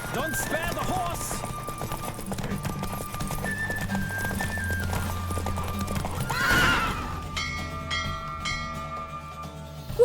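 Horse hooves clip-clop at a gallop and a horse whinnies in The Witcher 3: Wild Hunt, mixed under a sustained game music score and sound effects, with a loud swell midway before the music thins out.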